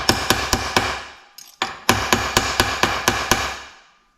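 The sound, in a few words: hammering metal flat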